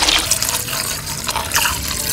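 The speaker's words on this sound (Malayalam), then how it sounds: "നമ്മൾ ഇതിനകത്തേക്ക് കുറച്ച് വെള്ളം കൂടി ഒഴിക്കുവാണ്" Water poured into a bucket while a homemade fungicide is being mixed, giving a steady splashing, gurgling flow close by with no talk.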